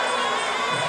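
A live MMA event crowd cheers and roars in a dense, sustained wall of shouting from many voices.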